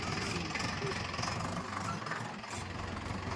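A tractor stuck in a muddy paddy field, its engine running in a steady, low, continuous drone with a slight dip midway, moderately loud and unbroken for the whole stretch.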